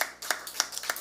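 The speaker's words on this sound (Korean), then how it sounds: "우리 격려의 박수 한번 주겠습니다" A church congregation claps in encouragement, a short burst of scattered hand claps with several sharp peaks over about a second, moderately loud with no talking.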